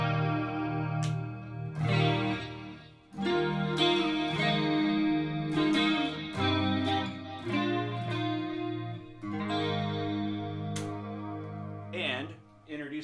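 A 1998 Ernie Ball Music Man Axis electric guitar, freshly re-fretted, plays chordal phrases and single notes through effects with chorus and light distortion, moderately loud and close, no talking.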